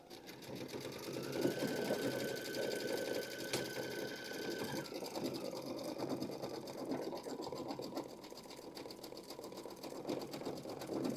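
Home embroidery machine stitching out a fancy-filled pumpkin design, a fast steady mechanical whir with rapid needle clatter, close and continuous, with a brief electronic tone early on and faint voices underneath.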